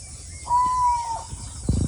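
A single drawn-out whistled call from an adult eagle near a village, steady and clear for under a second at moderate distance, followed by a brief thump.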